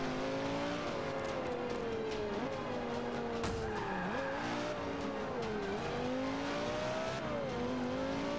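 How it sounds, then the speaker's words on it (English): A car spins out during a Forza Motorsport 5 race in a video game, with engine revving and long wavering tire squeals and skids, loud and continuous, plus a sharp thud midway. "That car spun out."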